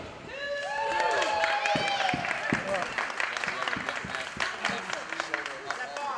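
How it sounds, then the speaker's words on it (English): A wrestling crowd at a CZW Dojo Wars match claps and cheers in a steady wash of applause, with a commentator talking over it and sharp slaps from the ring cutting through. "doing an awful lot of clapping for somebody that's losing."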